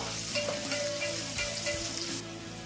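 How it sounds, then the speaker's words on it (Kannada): Chopped onions fry in oil with a steady, close sizzle, while soft scraping and stirring taps sound underneath and no one speaks. "ಈರುಳ್ಳಿ ಕಟ್ ಮಾಡಿ ಇಟ್ಕೊಂಡಿದ್ದೀನಿ, ಅದನ್ನ ಹಾಕೊತಾ ಇದ್ದೀನಿ. ಈರುಳ್ಳಿನ ಸ್ವಲ್ಪ ಎಣ್ಣೆಲಿ ಬಾಡ್ಸ್ಕೋಬೇಕು"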